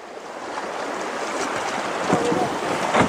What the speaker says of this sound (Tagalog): O ito na yung pang-apat na Lagaslas o rapids na dadaanan natin.